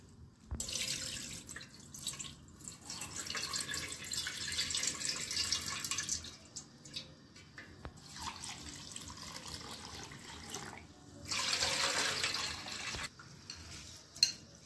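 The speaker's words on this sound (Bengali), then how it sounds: "চালটা আমি ধুয়ে নিয়েছি ভালো করে" Rice being washed by hand under a running kitchen tap for a Bengali pulao: steady splashing and swishing of water, fairly quiet and close, in long bursts with short pauses.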